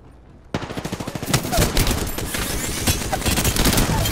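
Gunfire in Apex Legends, a sudden burst of rapid automatic shots that becomes a continuous loud stream of fire, close and dense.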